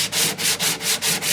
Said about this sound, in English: I'm just gonna flush that up real quick with this sanding block